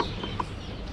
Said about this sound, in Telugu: సో ఇక్కడ మళ్ళీ కోళ్ళు అనమాట.